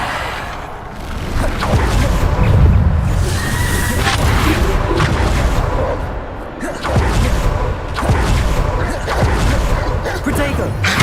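Bombarda blasting spell explosions during combat in Hogwarts Legacy, loud booming blasts and whooshes rolling in repeated waves amid chaotic battle noise, with voices heard at times.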